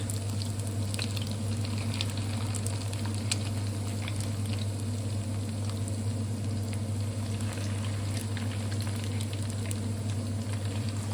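Pork fries in hot oil over medium heat for Thai-style fried pork cakes, giving a steady soft sizzle and light bubbling patter, continuous and fairly quiet with a low constant hum beneath.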